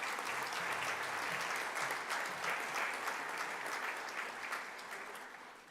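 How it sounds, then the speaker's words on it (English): Audience at a high school Grade 9 prize-giving applauds steadily for award recipients, a dense wash of many hands clapping that holds throughout and fades slightly at the end. "You may give these recipients a round of applause."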